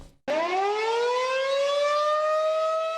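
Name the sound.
tornado warning siren test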